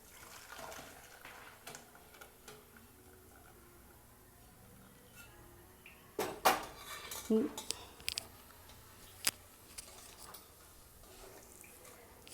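Pots and utensils clatter faintly while mudakathan keerai soup is moved to another vessel: a quiet kitchen hush broken by sparse clinks and a short burst of metallic knocks and scrapes midway.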